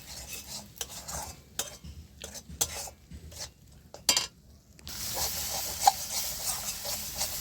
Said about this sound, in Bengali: হলুদ দিয়ে দিচ্ছি, দিয়ে আমি এবার ভালো করে কষিয়ে নেব এটা।